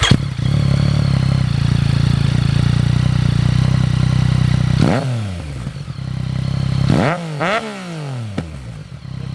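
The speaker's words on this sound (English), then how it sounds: "Filthy's going to start up his FZ09 here for us with the Yosh pipe on it." A Yamaha FZ09 motorcycle fitted with a Yoshimura exhaust drones loudly and steadily, then is revved in sharp rising-and-falling bursts, with several quick blips near the end and a brief word spoken.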